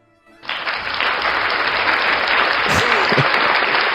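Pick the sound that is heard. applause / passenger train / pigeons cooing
applause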